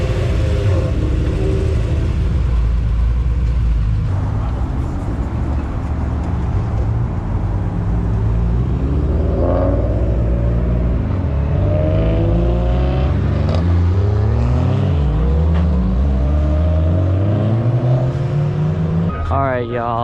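A built 2J engine in a car at a Datsun meet car show revs and rumbles steadily for the whole stretch, loud and close, with rising rev sweeps near the end and people talking underneath.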